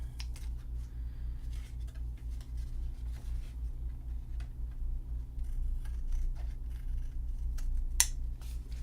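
Scissors snipping through paper during a craft session, a series of small sharp cuts over a constant low hum, close and fairly quiet.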